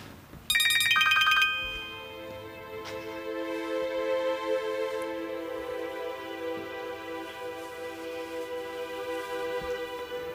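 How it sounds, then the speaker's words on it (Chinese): A mobile phone ringtone plays on and on, a repeating melodic ring that carries steadily through a quiet indoor room, heard alone without talk. "你这电话一直响"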